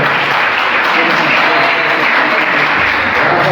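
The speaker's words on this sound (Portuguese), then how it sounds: "Vamos receber nosso pastor, batendo palmas para Cristo Jesus" Church congregation clapping to welcome the pastor, a dense, steady wash of loud applause filling the whole stretch with no pauses.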